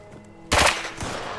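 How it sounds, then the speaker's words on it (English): A single gunshot in the video game Fallout 76 cracks out abruptly after a quiet moment, loud and sharp, then trails off in a short rumbling echo. "I heard a gunshot."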